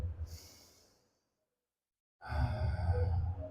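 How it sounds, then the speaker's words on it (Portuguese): A slow, deep breath during a breathing exercise, with a soft, fading exhale, a pause of near silence, then a strong, close, breathy rush of air. "Respiração profunda"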